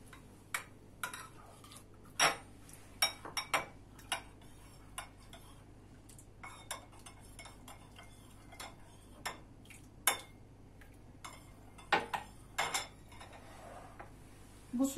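Spoon stirring red pepper paste and tomato paste into a glass of water, a steady series of light, irregular clinks and taps against the container, close but faint, with no talking.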